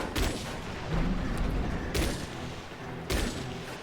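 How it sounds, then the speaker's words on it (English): Sniper gunfire in the Chromehounds mech video game: three heavy, booming shots about a second apart, each a loud sharp blast with a rumbling tail, with no talk. "Oh, it's a sniper."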